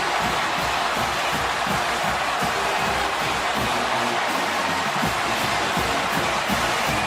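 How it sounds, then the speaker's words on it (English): A stadium crowd roars steadily after a Florida touchdown against Alabama in college football, a dense, continuous wash of cheering with no breaks. "Now the crowd's alive."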